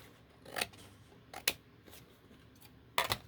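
Scissors snip through material around the house, three distinct close cuts spaced apart against a quiet background.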